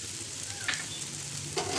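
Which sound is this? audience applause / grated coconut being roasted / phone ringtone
grated coconut being roasted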